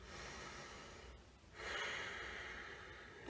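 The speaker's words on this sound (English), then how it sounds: "Just breathing nice in through the nose" Slow nasal inhalation during a meditation breathwork exercise, a soft, steady airy rush that swells and then gives way to a longer, fuller draw of breath, close and quiet.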